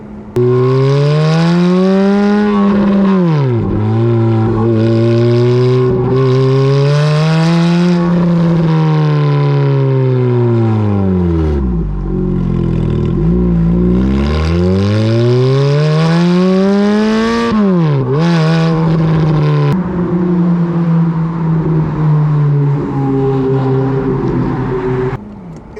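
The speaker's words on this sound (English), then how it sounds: "Aspirated V8 engine." A Ferrari F430 Spider with a manual gearbox and naturally aspirated V8 revs hard, rising and falling in long loud sweeps, dipping to a low burble midway before climbing again, with no voices.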